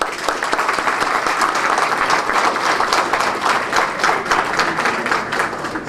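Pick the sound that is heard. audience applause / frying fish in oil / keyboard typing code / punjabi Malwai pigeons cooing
audience applause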